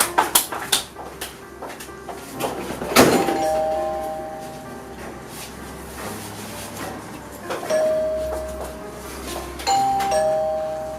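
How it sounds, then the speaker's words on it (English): A house doorbell rings several times at intervals, each ding sustaining briefly, with clunks and household noise around it and a voice speaking at times. "Somto, Why are you pressing the house bell like that?"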